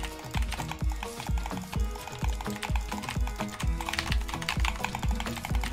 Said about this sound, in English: We gotta start butterfly clicking, I guess.